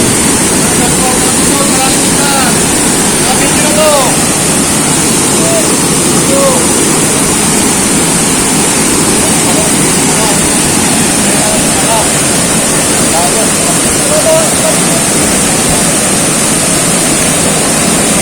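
A waterfall at General Nakar, Quezon, pours into its plunge pool with a steady, loud, unbroken roar of rushing water that holds at the same level from start to finish.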